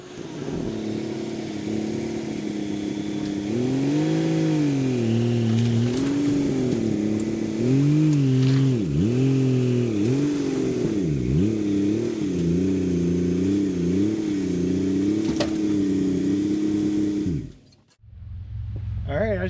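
Engine of a vehicle towing a trailer built for a Jeep CJ5 revs and drones steadily on a test drive, pitch rising and falling for about seventeen seconds, loud and close, before cutting off abruptly.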